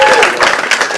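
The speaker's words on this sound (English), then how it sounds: "Can we have another round of applause for Phil Chapman?" Brief burst of audience clapping at a comedy club, loud and close, with voices mixed into the applause.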